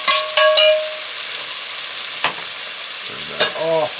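Blood frying in a hot pan, a steady close sizzle with a few sharp clinks of a utensil against the pan and a short squeaking scrape near the end.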